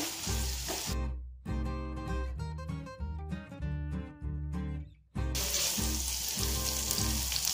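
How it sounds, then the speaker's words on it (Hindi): Paneer roasting lightly in a pan gives a steady, close sizzle at the start and again toward the end, with background music briefly taking over in between. "पनीर को इसमें रोस्ट कर लेंगे हल्का हल्का।"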